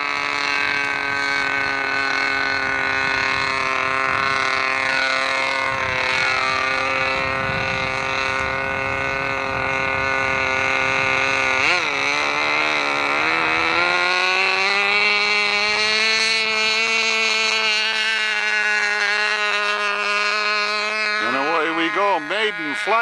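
A KMB 6.5 model aircraft engine with a side-exhaust flow-through muffler runs hot and loud for the whole stretch, a steady high buzzing whine that shifts pitch near the middle and rises and wavers at the end.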